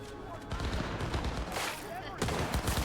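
Gunfire crackles in Cyberpunk 2077, rapid bursts of automatic shots coming in close clusters, loud and continuous over a few seconds, with a voice talking faintly underneath.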